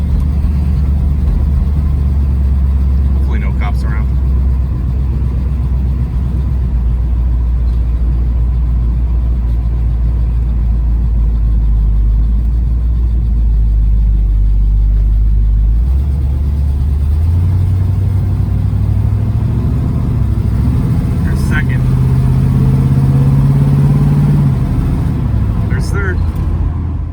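Car nicknamed Blue Bomber with a newly installed transmission, engine droning loud and close on a test drive, rising in pitch as it revs and accelerates through gears in the second half, while people talk over it.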